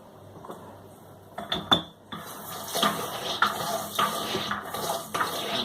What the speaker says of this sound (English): I'm just going to rinse it out